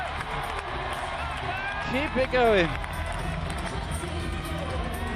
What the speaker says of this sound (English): The crowd is literally erupting as he gets onto the head wall